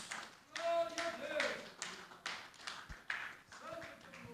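A church congregation claps in several bursts during a sermon, uneven and fairly close, with a voice speaking between and over the claps.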